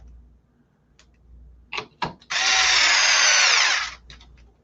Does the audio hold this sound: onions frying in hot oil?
no